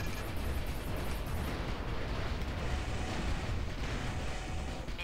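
Pulse cannon fire in the mech combat game Armored Core: Last Raven, a dense continuous roar of energy blasts and rumbling explosions filling the mix at steady loudness, with no voices.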